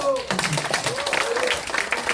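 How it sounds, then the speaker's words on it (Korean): A crowd at a provincial governor's meeting in Korea claps in a short burst of applause. A voice rises over the clapping as it continues. "큰 박수!"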